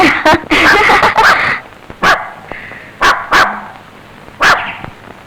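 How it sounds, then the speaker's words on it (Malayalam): In a Malayalam film scene, a dog barks loudly and close by, a quick cluster of barks followed by several single barks spaced apart, with quiet gaps between them. "പട്ടി കടിക്കോ?"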